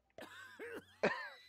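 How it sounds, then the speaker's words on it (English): A game character in Manual Samuel coughs, with a few harsh, voiced bursts close up. A short hacking spurt comes first, then a strained cough and a loud final one. "He has to cough."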